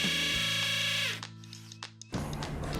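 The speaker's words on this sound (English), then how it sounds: "Drill the 10 holes." A power drill whines loudly at steady speed, then winds down, followed by a brief pause and another burst of drilling holes into a wall close by.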